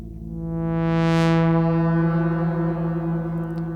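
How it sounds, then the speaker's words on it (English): A held Behringer DeepMind 12 synthesizer chord swells in and blooms into a washy reverberant tail that lingers and slowly fades, alone and moderately loud. "let's add another effect, maybe a reverb"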